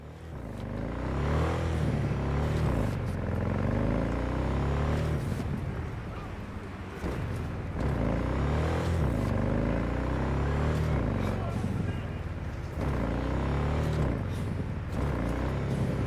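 Engine of a car driven in the video game Cyberpunk 2077, a close, loud growl that rises and falls through repeated revving surges and gear changes, with brief dips between accelerations and no talking over it.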